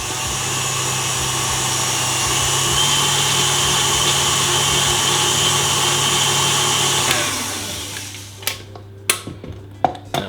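An electric mixer whisking cookie batter for tiramisu brownie crinkle cookies, a loud, steady motor whir that stops about two thirds through, followed by a few sharp knocks and clinks.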